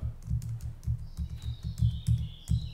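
Keys clatter on a MIDI keyboard as it is played, a steady run of soft, close clicks and thumps with faint high electronic tones in the background.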